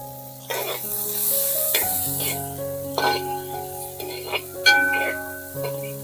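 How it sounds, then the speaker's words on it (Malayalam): Sliced onions sauté with a pinch of salt in a pan for a Kerala-style beef dish, giving a soft, steady sizzle with stirring scrapes over sustained tonal background sounds. "നമുക്കിതൊന്ന് നല്ലപോലെ ഒന്ന് വഴറ്റിയെടുക്കാം"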